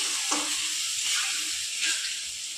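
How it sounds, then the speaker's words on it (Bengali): Ginger garlic paste sizzles and crackles in a hot pan while being stirred, a loud continuous frying hiss close by with a few soft scraping strokes. "এবার দিয়ে দেবো আদা রসুনের পেস্টটা। দিয়ে একটু নেড়ে চেড়ে কষিয়ে নেব।"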